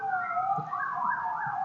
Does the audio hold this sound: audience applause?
no